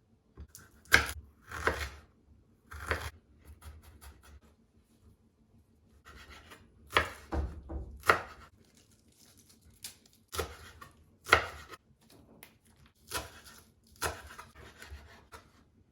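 Knife chopping vegetables and a tomato on a cutting board while preparing a Easter shakshuka, heard as scattered groups of sharp close taps and cuts separated by quiet pauses, with no talking.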